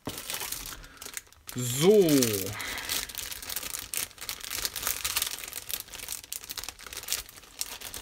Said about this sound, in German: hier muss ich jetzt immer ein bisschen rascheln, weil ich suche den Anfang von der Tüte